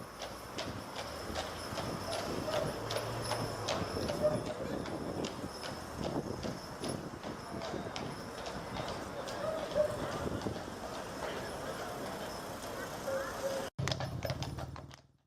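Horses' hooves clip-clop steadily up a very steep street in Lewes, a continuous rhythmic clatter of many footfalls with voices and town bustle mixed in, ending with a brief cut.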